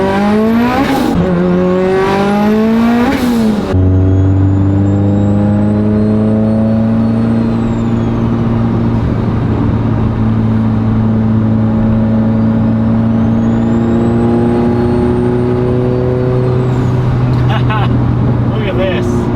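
A Mitsubishi Evo engine with rolling anti-lag revs loud and close, its pitch climbing and falling in repeated pulls before settling into a sustained, droning hold that wavers slightly over a long stretch.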